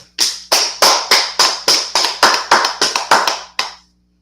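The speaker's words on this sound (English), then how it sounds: "Let's clap it up for tonight's class." An audience claps for a class in a steady, rhythmic unison beat of about a dozen sharp claps, close and loud, that stops abruptly.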